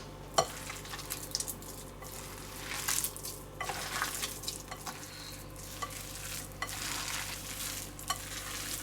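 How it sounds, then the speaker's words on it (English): Spices are stirred into a fish ball curry in a pan, soft sizzling under repeated scraping strokes of a spoon, with a few sharper clinks, fairly quiet and close. "Now I'm going to mix this properly so that all the spice and everything gets mixed thoroughly"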